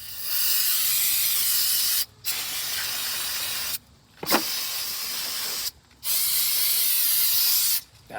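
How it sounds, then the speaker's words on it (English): Aerosol brake cleaner blasts onto the rear brakes of a Jeep Liberty in four long, loud, close hissing bursts separated by short pauses, with a faint clink between the second and third sprays. "hit it with some brake cleaner"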